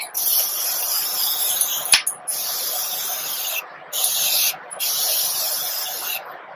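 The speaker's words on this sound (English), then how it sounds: "I'm just gonna use this Morphe Continuous Setting Mist just to like basically rehydrate everything" Morphe Continuous Setting Mist sprayed over a finished makeup look, a fine misting hiss running in several long close bursts with short gaps and no talk.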